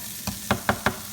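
Shrimp and vegetables in a pan give a brief close sizzle, broken by four quick stirring scrapes in steady succession, with no talking.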